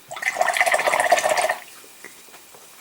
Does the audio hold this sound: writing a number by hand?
no